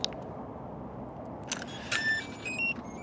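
A Potensic Atom 2 drone powers up, giving a few soft clicks followed by a series of short, high electronic start-up tones over quiet background hum.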